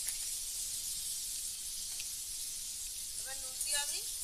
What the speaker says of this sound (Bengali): নুন দিয়ে ভেজে নিচ্ছি, সামান্য নুন।